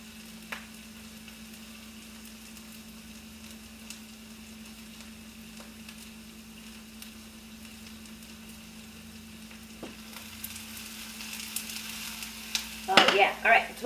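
Onions caramelizing in a pan, a quiet, steady sizzle with a low hum beneath, then louder clattering stirring near the end.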